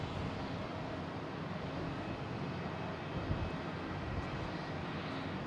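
A JetBlue airliner at Boston Logan International Airport heading to San Juan gives a steady, broad engine roar that stays even and fairly distant throughout, with no voices.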